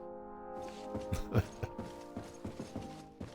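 A cabinet slides out in GreedFall with a creaking, ratcheting wooden-mechanism sound: a stretch of tonal groaning followed by a run of irregular clacks and clunks, close and moderately quiet.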